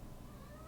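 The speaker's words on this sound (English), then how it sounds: "he's gonna start meowing now for food" A pet cat meows for food, a single short close cry over low household background noise.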